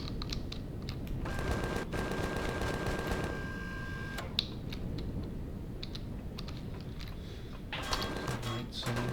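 Turrets in the Empyrion space survival game let off rapid bursts of mechanical gunfire, dense and continuous, with sharp clicks and a sustained tonal whine layered over the constant rattling clatter.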